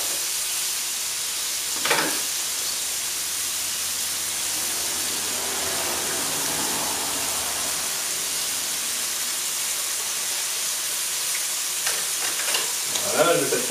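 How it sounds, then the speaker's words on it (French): Chicken pieces sear in a hot frying pan, a steady loud sizzle and crackle that runs throughout, with a few brief clinks or stirs. "maintenant la viande va se saisir"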